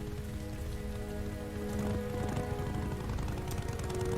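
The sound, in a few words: rain in a film scene, Ghost Rider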